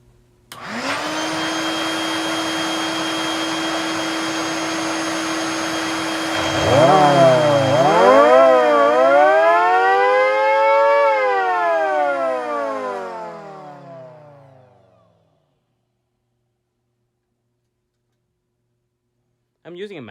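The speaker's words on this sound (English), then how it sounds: "I'm using a mattress blower." Mattress blower running loud and steady with a high whine, then its pitch wavers up and down before it spins down into silence, ending with a brief restart at the very end.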